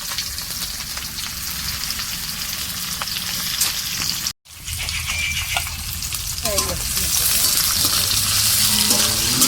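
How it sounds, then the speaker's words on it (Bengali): Chopped onions dropped into hot oil with bay leaves in a home kitchen pan for a chicken-skin picnic dish, a loud steady sizzle that briefly cuts out and then returns stronger with stirring scrapes. "এক এক করে সব মশলা চলে যাবে। পেঁয়াজ যাচ্ছে প্রথমে"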